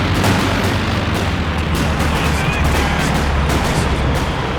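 Dense, continuous artillery barrage in Company of Heroes 2, with a steady roar of overlapping shell blasts and gunfire filling every moment, loud and unbroken with no quiet gaps.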